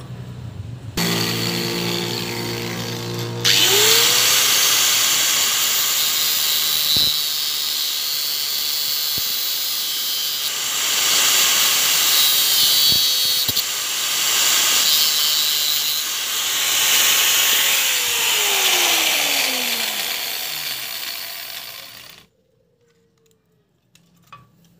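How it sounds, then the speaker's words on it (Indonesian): An angle grinder cuts through a motor scooter body part, a Honda Vario, with a loud continuous high-pitched whine that holds steady for about twenty seconds, then stops abruptly. No one speaks. "pakai gerinda."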